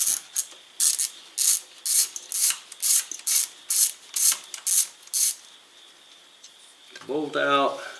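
Ratchet with an 8mm socket backing a bolt out of the valve cover on a 2016 Ford Escape 1.6 EcoBoost: about a dozen quick rhythmic clicking bursts, close and fairly loud, then a softer scrape and a brief voice near the end.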